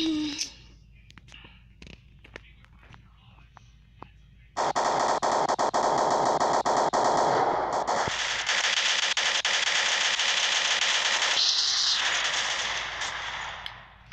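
Gunfire in the mobile shooter Standoff 2: a few sparse clicks and pops, then a sudden, loud, sustained stretch of rapid shots that lasts to the end.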